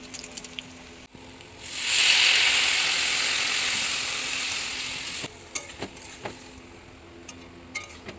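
An egg dropped into a hot pan bursts into a loud hissing sizzle that swells, holds for a few seconds and then fades, followed by scattered clicks and taps.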